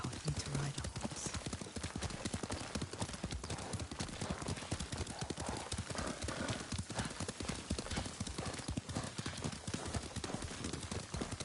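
Horse hooves clip-clop in a rapid, steady rhythm as a rider travels across open ground in Ghost of Tsushima, close and continuous for the whole stretch, with a brief whinny near the start.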